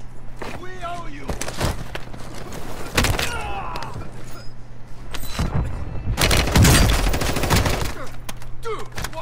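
Gunfire from the video game Call of Duty Modern Warfare 2: loud bursts of rapid shots and booms come in clusters over roughly nine seconds, with voices talking between and over them.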